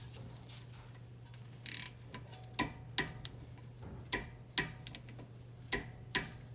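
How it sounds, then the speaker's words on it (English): Torque wrench ratcheting on a caliper bolt of a Mercedes/Dodge Sprinter rear brake, quiet irregular clicks over a steady hum. "So we're gonna torque the first one here."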